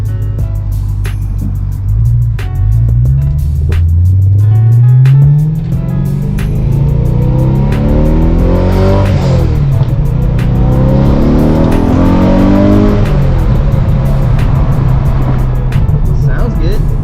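A BMW E92 M3 with a louder exhaust is taken for a short drive to check its alignment. The engine rises and falls through several hard revs and gear pulls, loud and close from inside the car, with someone talking over it.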